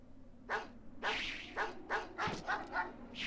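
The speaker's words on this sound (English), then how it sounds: "Really? You let the dogs back out?" Dogs in the video game Megaman Legends bark in a quick series of about seven sharp, close yaps, one after another with brief gaps over a low background hum.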